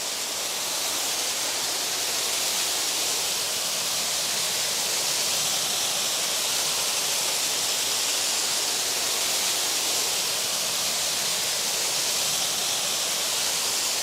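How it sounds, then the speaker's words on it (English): Heavy water falling in an ornate Mediterranean garden, a dense, steady roaring rush that continues without a break and sounds close and loud. "it is extraordinary to feel the power of the water falling"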